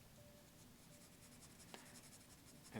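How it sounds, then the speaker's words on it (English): Soft, steady scratching of an H graphite pencil shading across drawing paper in a slow, meticulous rhythm, quiet and close with a brief tap near the end. "this is an H pencil."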